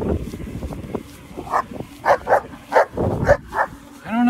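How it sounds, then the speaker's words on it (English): A dog on the Tour Divide bike route gives a run of short barks and yips at middle distance, spaced irregularly, with a brief whine at the end. "hi dog, hi friend."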